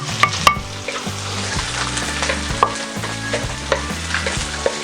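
Garlic sautéing in a hot wok, a bright continuous sizzle with light scraping and stirring clicks scattered over it, close and fairly loud, no voices.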